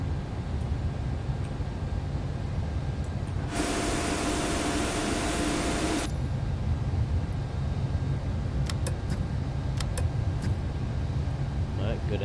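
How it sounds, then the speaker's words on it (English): Boeing 747-8 jet engine starting up in Microsoft Flight Simulator, a steady low cabin hum broken by a loud broadband hiss of rising air that runs for a couple of seconds and then cuts off, followed by light clicks. "Alright, good engine start."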